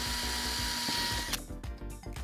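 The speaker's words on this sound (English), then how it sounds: "use the pen to mark where we need to drill the holes for the bolts. Use a 3mm drill bit for these holes" A power drill with a 3mm bit bores bolt holes in a container, giving a steady motor whine that abruptly stops, followed by a few brief handling clunks.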